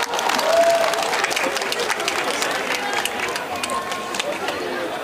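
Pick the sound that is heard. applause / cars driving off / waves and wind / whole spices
applause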